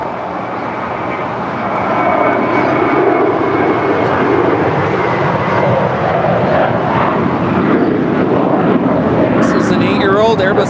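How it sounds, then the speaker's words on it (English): An American Airlines Airbus A321 departing LAX for Boston sends up a broad, steady jet roar that swells after the first two seconds and holds loud to the end, with a voice talking over it. "Airbus A321 with American Airlines now departing to Boston"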